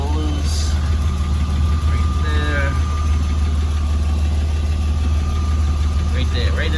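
A 2002 Ford Escape engine idles with a loose, leaking exhaust, giving a loud, steady low rumble with a puttering pulse close by, while a voice speaks briefly over it.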